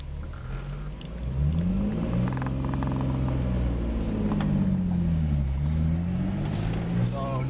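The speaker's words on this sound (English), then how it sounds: "I'm gonna let off the clutch while giving it some gas." A manual car pulls away in first gear as the clutch is let out with gas applied, the engine note rising and wavering steadily for several seconds after a brief quieter start, with speech over it.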